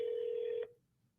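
A single short electronic telephone ring tone sounds for just over half a second, then cuts off into near silence.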